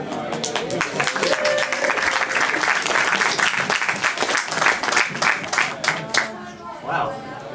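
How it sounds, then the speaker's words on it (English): Dense, loud applause from a theatre audience at a Q&A for the film Twisted at the Roxy, sustained for several seconds with crowd chatter and voices mixed in before it tapers off. "Big clap."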